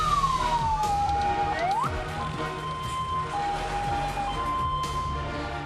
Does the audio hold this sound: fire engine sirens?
yes